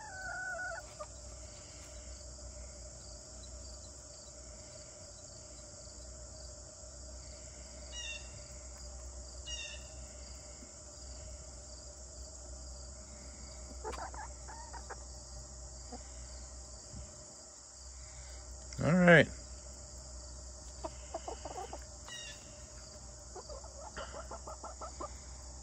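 Backyard chickens cluck softly now and then over a steady chorus of crickets and insects, with one louder squawk about two-thirds through, the birds fairly near but the overall scene quiet.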